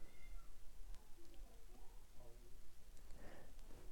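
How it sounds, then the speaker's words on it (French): A cat meows softly several times in the background, faint and somewhat distant, with low rumbling noise underneath. "j'ai un de mes chats qui miaule"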